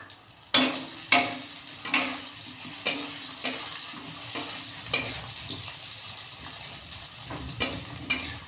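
Green plantain pieces sizzle in hot oil, with a series of sharp splashy bursts every second or so over a steady crackle.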